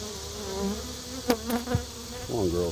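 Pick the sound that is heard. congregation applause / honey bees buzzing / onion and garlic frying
honey bees buzzing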